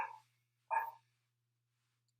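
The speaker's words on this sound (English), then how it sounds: "My dogs are going crazy right now." Dogs bark in two short, sharp bursts separated by silence, fairly close and clear, with one more bark starting at the very end.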